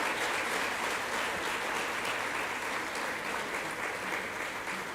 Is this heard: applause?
yes